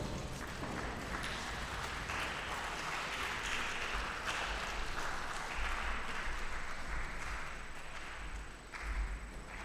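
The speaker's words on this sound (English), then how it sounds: "Let's give him a big round of applause." Audience applause at a book launch event honouring a speaker, a dense steady wash of clapping that fills the whole stretch at moderate distance, with no talk over it.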